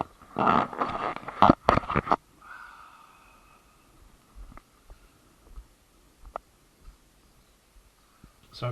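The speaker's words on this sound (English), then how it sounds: "Sometimes when you actually take the headband off with the camera, it does make a noise." A camera headband being pulled off the head gives a close burst of loud rustling and scraping for about two seconds, then quiet with a few faint clicks and taps.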